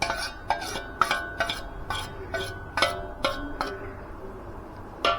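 A spoon clinks and scrapes sharply against a bowl in a quick, irregular rhythm while red chilli, salt, black salt, coriander powder and chaat masala are stirred into yogurt, close and clear with no talking.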